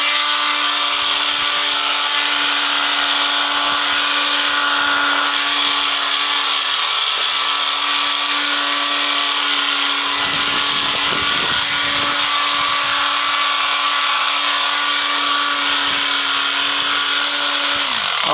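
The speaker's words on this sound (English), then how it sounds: "I'll shave above it from the jaw up to the ear" Electric clippers shave cattle hair from the jaw up toward the ear, giving a steady, loud motor buzz with a constant hum that runs the whole time, its tone roughening briefly midway as the blades move through the coat.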